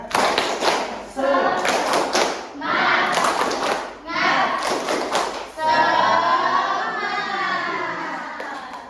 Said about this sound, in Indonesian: Ice breakingnya tepuk semangat.